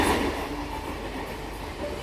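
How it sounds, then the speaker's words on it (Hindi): Mumbai metro train running along the track, a steady rumbling roll with faint rail clatter, continuous and fairly loud throughout with no talking. "ये देखिए मुंबई मेट्रो की रफ्तार"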